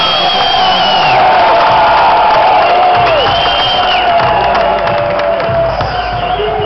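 A large outdoor crowd at a Bassmaster Elite Series bass fishing weigh-in on the Delaware River cheers and whoops loudly and steadily, with whistles and shouts rising over a dense roar throughout.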